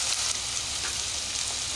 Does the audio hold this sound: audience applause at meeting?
no